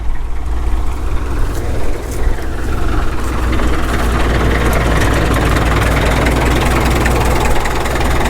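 A Caterpillar D2 crawler tractor's diesel engine runs steadily up close, a loud, continuous low throbbing rumble with mechanical clatter, no voices over it.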